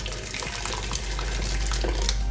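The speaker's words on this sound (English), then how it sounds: "Now I'll add some little quantity of hot water." Hot water pours steadily into a large pot of Nigerian party jollof rice, a soft continuous splashing stream heard up close.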